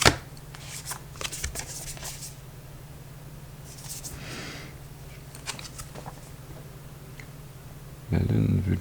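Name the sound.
shuffling Moonology oracle cards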